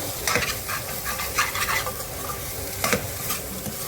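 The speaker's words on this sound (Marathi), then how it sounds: "बघा आपला खिमा छान शिजलाय, आता त्याला परतून घेऊया।" Chicken keema is stirred and sautéed in a pan for stuffed green chillies, with a close, continuous sizzle and repeated scraping stirs of the spatula in bursts, no voices.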